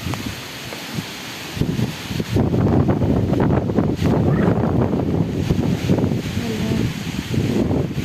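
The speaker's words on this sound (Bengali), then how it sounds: "আল্লাহ এই ঝড় তুফান আমার খুবই ভয় লাগে" A storm wind in a Khulna-area village rises from a quieter start into a loud, continuous, gusty roar that buffets close by for several seconds.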